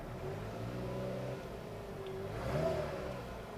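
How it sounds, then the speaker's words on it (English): A 2013 Kia Rio engine idling, then briefly revved, a steady mid-pitched motor hum that swells slightly near the end, heard up close with no talking. "Let's give it a little rev and see if it RPM increase."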